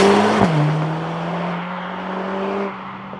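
Mercedes A45S pulling away and accelerating, a near engine drone with a steady low hum and a sharp shift-like blip early on, staying loud and smooth throughout.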